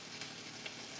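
Halved sweet peppers fry in a hot pan with a steady, soft hiss and faint crackle, quiet and continuous with no talking.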